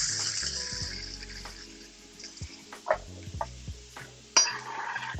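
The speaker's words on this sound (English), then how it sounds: "Go ahead and get those onions in there." Onions going into a hot pot, a soft sizzle under a steady background hum, with a few sharp clinks and scrapes of utensils and cookware, one louder clatter near the end.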